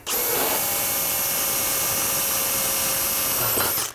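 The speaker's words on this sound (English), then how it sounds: "we're just going to do our best to drill straight" A power drill whines steadily at close range for nearly four seconds, starting and stopping abruptly, with a high motor tone and no voices.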